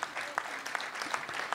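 An audience at an award ceremony applauds recipient Georges Morer, dense, steady clapping from a crowd filling the whole moment.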